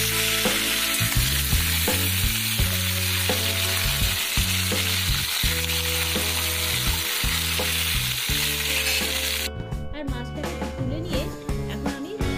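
Panch phoron, dried chilli and bay leaf sizzling loudly in hot oil, a dense continuous crackle close up with stirring knocks and a lower bubbling layer, easing slightly near the end as tamarind water goes in.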